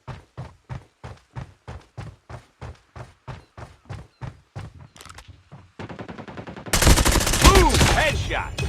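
Gunfire in Call of Duty Mobile: a rapid evenly spaced burst of about twenty loud shots, then a short rattle and a heavy roaring blast, with a game voice briefly heard.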